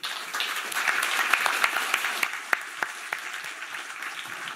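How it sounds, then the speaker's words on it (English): Conference audience applauding a panel on Arctic security, a dense wash of clapping with a few sharper individual claps standing out, steady and moderately loud with no speech. "Please give the panel a round of applause."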